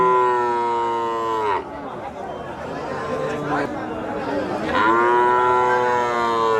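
Cattle at a traditional market in Nilphamari, including Sahiwal bulls and calves, give two long, loud, close moos, with crowd chatter between them.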